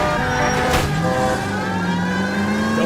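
A car in a police chase in LA Noire, its engine droning steadily with rising and shifting pitch, loud and close throughout with no talk.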